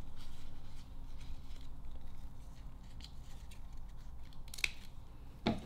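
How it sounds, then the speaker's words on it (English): Scissors trim the ends of Christmas wrapping paper around a wine bottle with a few quiet snips and crisp paper rustles, ending in a louder cut. "Now I'm going to take my scissors and fold these"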